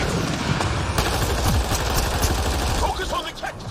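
Sustained bursts of sci-fi gunfire in Mass Effect: Andromeda, rapid overlapping shots and a fusillade of fire that stays loud throughout, with combat noise layered in.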